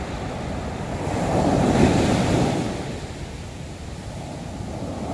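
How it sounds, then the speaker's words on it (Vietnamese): Large sea waves breaking on Nha Trang beach, a broad continuous roar of surf that swells louder in the middle of the stretch and eases off, with wind rushing across the microphone. "điều cái là sóng biển rất là lớn mọi người"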